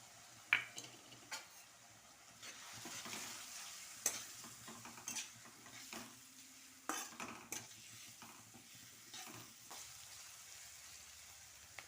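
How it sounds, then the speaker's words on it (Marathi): Chopped onion is stir-fried in a pan for a Marathi wild vegetable (phanji) dish. A steady sizzle runs under repeated scraping and clinking of a spatula against the metal, close and fairly quiet, with no talking. "आता आपण याच्यामध्ये कांदा टाकून घेऊ."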